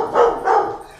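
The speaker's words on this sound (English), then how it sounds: "There's that bark that I thought she might have." A dog gives two short, close barks in quick succession, each bright and sharp, then falls quiet with no voices around.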